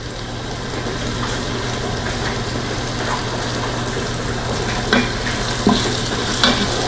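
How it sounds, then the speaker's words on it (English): Beef pieces browning in an electric pressure cooker, a constant close sizzle over a low steady hum, with a few brief scrapes toward the end and no speech. "So let us go ahead and get this meat brown"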